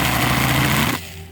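Loud, steady whine of a power drill boring a 1/2 inch bit into an aluminum fuse block on a Chevrolet Trailblazer SS, running continuously for about a second and then cutting out to a quieter motor hum.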